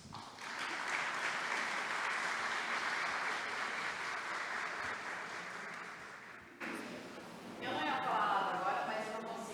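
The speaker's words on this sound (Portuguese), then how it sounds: "com o pianista Jefferson Cini, a quem novamente nós pedimos uma salva de palmas" Audience applause for a choir with pianist fills the hall for about six seconds, steady and moderately loud, before a pause and a brief second burst of clapping.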